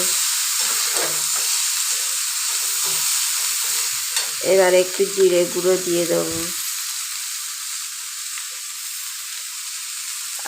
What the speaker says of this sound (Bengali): আলু কপিটা ভাজা হয়ে যাচ্ছে